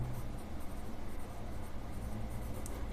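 A pen writes an answer on paper for a class 10 English grammar exercise, giving a close, steady, dense scratching without any pauses.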